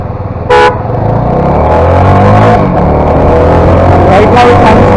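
A CF Moto 300 NK motorcycle in sport mode is ridden, its loud engine droning and rising steadily from close range, with a short horn-like toot near the start.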